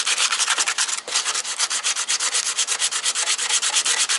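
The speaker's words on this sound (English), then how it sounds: "Just sand it down." Bondo on a VW MK2 engine bay is hand-sanded with 80 grit sandpaper, a loud, close, rhythmic scratching of quick back-and-forth strokes with no talking.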